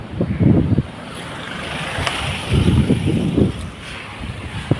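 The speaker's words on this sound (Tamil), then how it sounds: "அதோடைய அலைகள் ரொம்ப அதிகமாக தான் இருக்குது" Waves surge and crash in bursts amid heavy wind buffeting the microphone, a loud rumbling roar near the shore.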